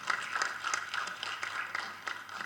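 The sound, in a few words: audience applause at an audio launch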